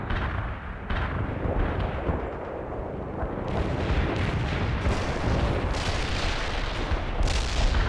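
Rumbling artillery barrages and explosions in the real-time strategy game World in Conflict, with dense, continuous booms and blasts at steady loudness throughout.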